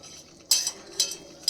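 A utensil stirring and scraping food in a pot, three bright metallic clinks spaced about half a second apart over a quiet background.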